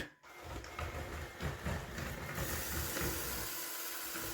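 A SwitchBot K10+ mini robot vacuum cleaner runs nearby, giving a steady whirring hiss with a rotating brush rumbling underneath. It is fairly quiet and continuous, brightening into a stronger suction hiss partway through.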